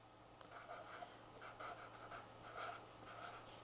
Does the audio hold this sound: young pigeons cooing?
no